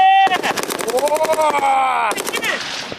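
Loud, rapid bursts of artillery gunfire crackle close by, shooting down drones, layered over a high, wavering whine that rises and falls.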